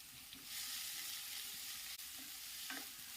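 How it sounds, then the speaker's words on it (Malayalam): Onion, curry leaves, dried chilli and garlic sizzle steadily in a pan while being stirred for green tomato thoran, a continuous close hiss broken by a few spoon scrapes and clinks. "ഇട്ട് കൊടുത്ത ശേഷം നമുക്കൊന്ന് ചെറുതായിട്ടൊന്ന് വഴറ്റി കൊടുക്കാം"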